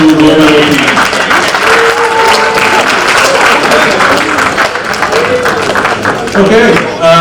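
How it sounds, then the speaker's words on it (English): Crowd applause for player of the year recipients and gold medal teams at a college athletics awards ceremony, loud and sustained for several seconds, with voices audible over it. "let's have a round of applause for our player of the year recipients"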